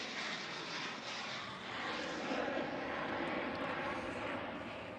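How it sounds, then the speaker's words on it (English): Boeing 737 jet at Houston Intercontinental airport, a steady broadband engine roar heard from a distance, swelling slightly and holding for several seconds with no talk over it. "these are the shorter variations of the new 737s"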